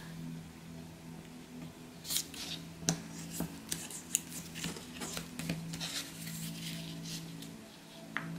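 Scissors snip through scrap paper in a craft session, a string of short, close, crisp cuts and rustles over a steady low hum, with no talking.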